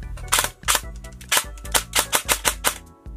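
An LCT AKS74UN airsoft AEG rifle fitted with a Gate Titan V3 fires a series of sharp, close shots: a few spaced single shots, then a quicker run of about six evenly spaced cracks with mechanical clatter.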